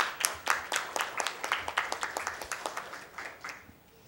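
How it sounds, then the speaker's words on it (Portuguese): Scattered applause from a modest crowd at a formal legislative ceremony honoring a professor, with brisk, uneven claps that settle into a thinning rhythm before fading out. "Quem queria pedir uma salva de palmas para o nosso professor?"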